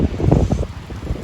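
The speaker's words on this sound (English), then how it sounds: "It's too windy." Strong wind gusts through a garden on a mild, sunny spring day in late March, rumbling against the microphone in uneven surges that ease off toward the end, with no talk.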